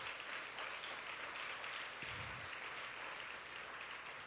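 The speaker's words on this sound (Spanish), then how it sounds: "Alguien dele un aplauso al Señor." Applause from a church congregation during a Spanish-language sermon, a steady broad wash of clapping that stays even and moderately loud for the whole stretch, with no voices over it.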